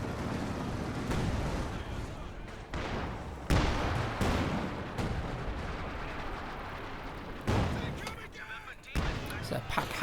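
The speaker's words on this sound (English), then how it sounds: "Some max range barrage from the Sis Barrage trying to protect the fuel." Max-range artillery barrage in a strategy video game, heavy booming rounds landing at irregular intervals over a dense rumbling battle bed, with a voice commentating under the fire.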